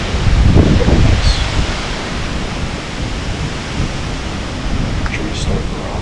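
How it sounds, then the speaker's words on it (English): Strong wind roars steadily through trees around a Pennsylvania bow-hunting spot, a broad rushing wash that swells loudest at the start and again near the end, with faint rustling throughout. "Wind hasn't calmed down any, as you can tell."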